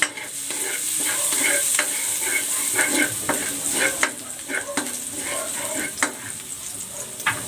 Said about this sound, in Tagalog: Maglalagay ako ng cooking oil. Igigisa ko na tong bawang.